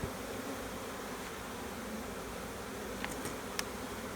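Honeybees at an open hive during an inspection, a soft steady buzzing drone holding through the stretch, faint and even, with a couple of brief sharper ticks near the end and no talk.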